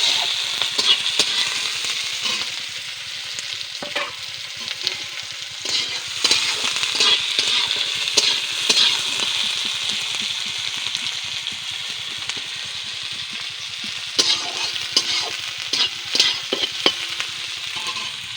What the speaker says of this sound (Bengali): তেলটা গরম হয়ে গেছে, পেঁয়াজ দিয়ে দিলাম। পেঁয়াজটা একটু লাল লাল করে ভেজে নেব।